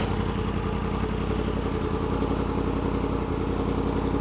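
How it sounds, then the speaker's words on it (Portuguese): A Lexus IS250 engine idles at a car show with a steady, continuous low rumble and faint mechanical clatter, close by and unchanging throughout. "Eu acho que é um motor 6 cilindro turbo"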